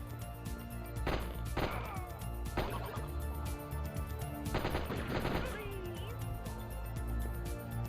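Rapid gunfire bursts with tracer rounds in the video game Die Hard Trilogy, several sharp clustered volleys over a steady game soundtrack, fairly loud and close.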